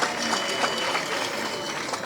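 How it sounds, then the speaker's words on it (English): Steady audience applause rises from a crowd at a Warri Kingdom chieftaincy title conferment for Itsekiri chiefs, a dense patter of clapping held throughout the short stretch. "Please clap if you wish to do so."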